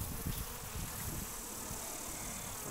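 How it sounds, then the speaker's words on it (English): Honey bees working at a beehive while a super is added above the brood box, a steady close buzzing hum running throughout with faint rustling underneath. "Bees are working hard there."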